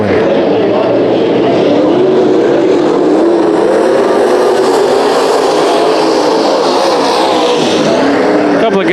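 Dirt track race cars roar around Bakersfield Speedway during a heat race, a loud sustained engine drone from the pack that swells and shifts, with a commentator talking over it.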